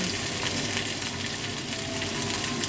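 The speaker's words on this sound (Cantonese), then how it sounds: "慢慢火煎佢，撳一撳佢先。 煎完一面先一面啦" Salmon pan-fries slowly over low heat, making a continuous, even sizzle with a soft crackle and hiss that stays steady and close for the whole stretch, with no talking.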